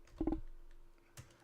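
Typing on a computer keyboard: a quick burst of three or four close, faint key clicks, a pause, then a single firmer keystroke.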